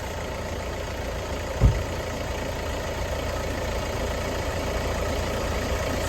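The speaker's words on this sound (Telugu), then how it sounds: "నార్మల్ సెల్ఫ్ అయితే వెహికల్ అయితే స్టార్ట్ అవుతుందండి" A 2018 Hyundai Creta 1.4 E+ starting with one short crank burst, then settling into a steady, close engine idle hum that continues evenly without voices.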